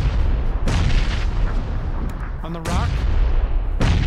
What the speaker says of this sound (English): I'm going to spam nades then